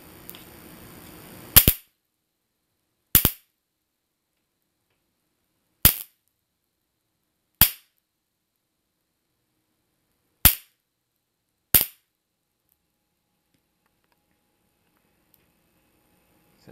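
A DIY rolled foil capacitor charged to 30 kV pops in six sharp, loud cracks spaced irregularly a second or two apart, with near silence between them after a brief low hum at the start.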